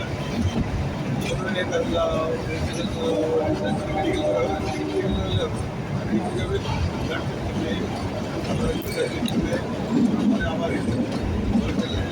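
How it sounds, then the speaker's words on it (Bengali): A train winding along mountain slopes near Shimla rolls with a continuous low rumble and clatter, heard from inside amid steady passenger chatter and babble. "ট্রেনটা যখন এঁকে বেঁকে যাচ্ছে পাহাড়ের কোল দিয়ে"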